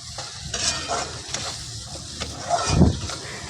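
Roasted masala being sautéed and stirred for a village-style spicy mutton curry over a wood-fired clay stove, with soft sizzling and scraping stirs that swell into a louder burst of frying near the end, with no talk.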